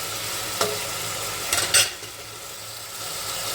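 Chicken sukka masala ingredients frying in a pan, a steady soft sizzle with a few clanks of a spoon stirring, no voices.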